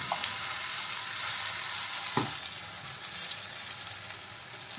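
Moong dal dosa batter sizzles steadily on a hot pan, a close, bright hiss with a couple of brief clicks or scrapes, heard alone without talk.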